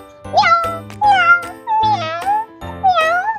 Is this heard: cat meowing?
yes